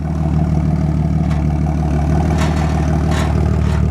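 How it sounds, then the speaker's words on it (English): A Jeep Wrangler converted to look like an H2 Hummer idles through a resonator-type exhaust, giving a steady, throaty low rumble with a slight buzzy edge, close and continuous throughout. "that kind of throaty exhaust with a little bumblebee kick to it is this pipe right here"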